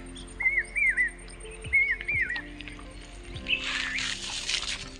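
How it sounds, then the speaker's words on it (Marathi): Birds chirp and whistle in a forest at dusk, short melodic calls repeating near the start and middle, fading into a broader hiss of distant wildlife and insects toward the end, with no talking. "इथला शांतपणा पक्षी आणि प्राण्यांच्या आवाजाने गुंगाटत होता"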